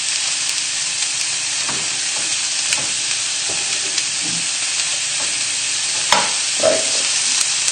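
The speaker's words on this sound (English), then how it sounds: "give the potatoes a shake around. You should be able to hear them sizzle now" Potatoes sizzling in hot oil in a pan, a steady bright hiss with occasional scrapes and clatter as they are shaken around, no talk.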